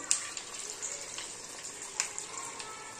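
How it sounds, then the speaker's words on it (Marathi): Kothimbir vadi, a coriander fritter, deep-fries in hot oil, giving a close, steady hiss and sizzle with small crackling pops scattered throughout. "एक एक वडी सोडते तेलामध्ये."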